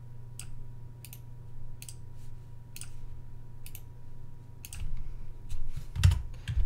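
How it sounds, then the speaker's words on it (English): Keys clack on a computer keyboard in short, crisp bursts of clicks spaced across the stretch, growing busier and louder toward the end against a low steady hum. "Typing in there."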